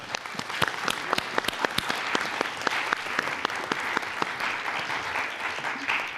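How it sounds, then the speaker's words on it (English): Audience applause at a startup demo day, many hands clapping steadily with sharp individual claps standing out, moderately distant and continuous with no talk. "I think we should give them another round of applause"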